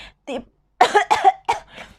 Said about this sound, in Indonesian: Kok aku batuk?